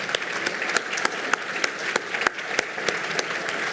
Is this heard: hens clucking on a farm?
no